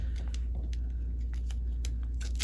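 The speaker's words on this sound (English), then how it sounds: "sometimes using the scissors makes it easier so it doesn't go into a ball" Scissors cutting duct tape while crafting a DIY Star Wars lightsaber: a few quick, crisp snips spaced out over a low steady background hum, close and fairly quiet.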